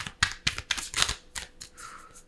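A deck of tarot cards shuffled by hand, close and crisp, with a quick run of riffling bursts and a softer sliding rustle at the end.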